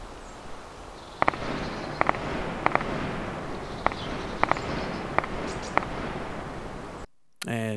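Distant MP5K submachine gun shots at 500 meters in DayZ, about ten faint sharp cracks spread irregularly over a steady noisy background, ending in brief silence.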